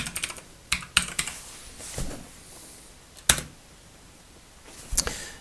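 Sharp, separate keystrokes on a computer keyboard come in short bursts with pauses between them. The typing is close and clear, and no one speaks.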